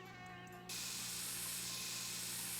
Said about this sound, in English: I can just use fly spray. That I will do.